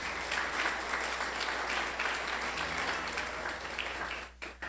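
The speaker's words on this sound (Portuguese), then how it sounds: "Você pode aplaudir no nome de Jesus?" A church congregation applauds during a sermon, a sustained, fairly distant patter of many hands under a low steady hum, thinning briefly near the end.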